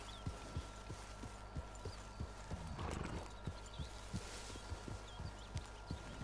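Horse hooves clip-clop at a steady walking rhythm in Red Dead Redemption 2, close and distinct, with a brief whinny or snort midway and no talk over them.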